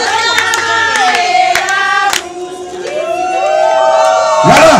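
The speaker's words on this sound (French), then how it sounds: "On applaudit pour Aïda." At a birthday party, a group of people cheer with high voices and clap after the birthday girl blows out her candle, a close and loud burst of celebration.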